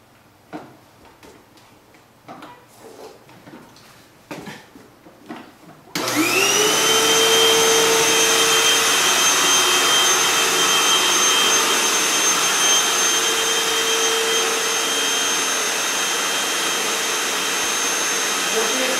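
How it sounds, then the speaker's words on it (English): Vacuum cleaner switches on after some quiet rustling and a few words, then runs as a loud, steady whine and roar close by while it is used to brush a horse's fur. "see if we can get the vacuum a little closer and closer until he allows us to put the brush on his fur while it's on"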